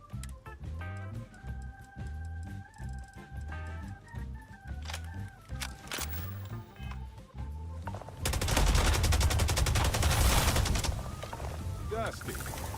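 Rapid gunfire from the space-exploration video game Starfield erupts loudly partway through, a dense burst of shots over a background score, following an earlier stretch of music and game sound.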